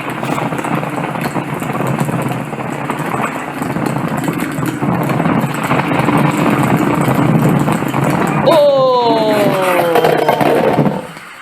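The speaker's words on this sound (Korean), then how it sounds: "느낌이 오토바이 같은데요" A motorcycle engine runs steadily and fairly loud throughout on the road, with rising whines near the end as it revs up.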